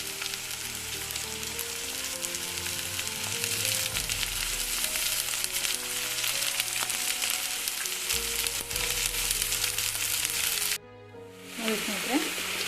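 Sprouted green gram sizzles steadily in a hot pan for a home-style usuli, a dense continuous frying hiss that cuts out abruptly near the end, followed by a brief clatter.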